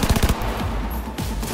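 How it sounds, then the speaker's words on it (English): Rapid submachine gun bursts in Cyberpunk 2077 open loud and close, then thin into sparser shots over a steady game-noise bed. "Thank goodness I have the submachine gun here"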